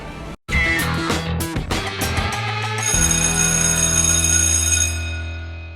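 A ringing bell tone opens a show intro, bright metallic rings over a rapid sequence of clattering hits, then a sustained electronic chime that holds steady and slowly fades, loud and alone without talk.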